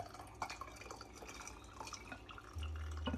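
Magnolia, dandelion and rosemary herbal tea poured into a vessel: a quiet, steady trickle with dripping and splashing close by, no talk.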